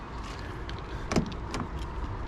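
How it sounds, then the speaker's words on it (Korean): A BYD T4K sounds a short warning when it is locked while a door is not fully closed. A brief, sharp chirp and click stand out over steady outdoor background noise, followed by a fainter second blip. "여기 이제 문이 이렇게 제대로 안 닫혔을 때 잠금을 누르게 되면 이렇게 소리가 나게 되어 있습니다."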